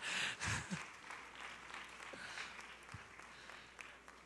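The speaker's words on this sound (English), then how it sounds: "that applause was weak" A church congregation gives a thin, scattered round of applause after a sermon on real marriage; a few louder claps stand out early, then the clapping tapers to a soft patter.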